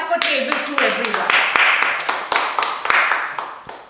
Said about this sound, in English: A big clap for table 2, everyone.